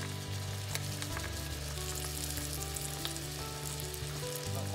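Veal shanks for osso buco sear in hot oil and butter, giving a dense, continuous close sizzle that holds steady throughout with faint utensil touches, no voices.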